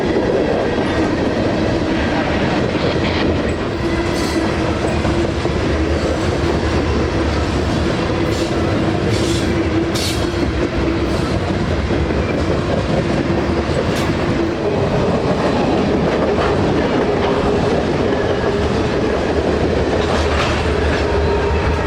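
A freight train hauled by three GE locomotives rumbles steadily past, with continuous rolling wheel noise, rhythmic clickety-clack over rail joints and occasional faint squeals, loud and close.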